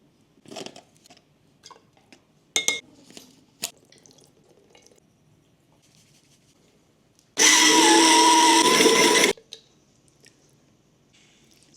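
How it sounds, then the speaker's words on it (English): An immersion blender whirs loudly for about two seconds while mixing creamy Italian salad dressing, preceded by scattered clicks and knocks of handling in a kitchen; no talking. "I can't find the other pieces of this, so I'm just gonna use my immersion blender."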